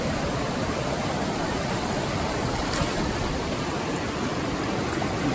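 Water rushing steadily through a gold mining sluice box on an Alaskan claim, a loud, even, broadband flow with no breaks and no voices.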